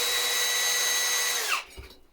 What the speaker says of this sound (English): the actual power drill